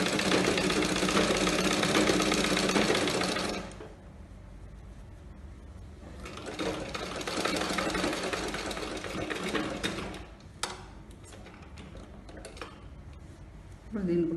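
A sewing machine runs a straight seam on palazzo pants in loud continuous bursts: a long run, a pause, then another stretch of stitching with a few clicks and a brief restart at the end.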